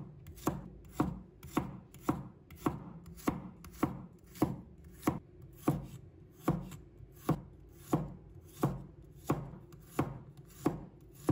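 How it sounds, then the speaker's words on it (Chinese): A knife slices a handful of garlic cloves on a cutting board, giving a steady run of about twenty evenly spaced, crisp chops close by. "准备一把大蒜，把它切成片。"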